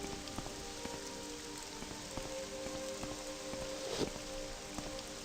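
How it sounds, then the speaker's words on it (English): Steady rain falls in the video game Morrowind, a constant soft hiss of drops on surfaces with faint ticks and one brief louder knock, alone without speech. "it's raining."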